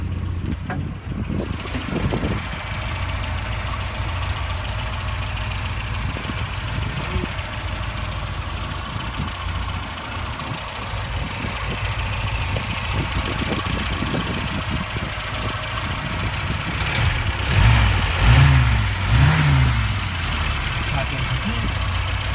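A 1967 MGB sits with its engine compartment open, the engine idling steadily with a low rumble and rising into a couple of revs near the end, and someone speaks briefly over it.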